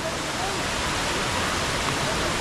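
A forest waterfall pours in a steady, dense roar of rushing water that stays even and close for the whole stretch.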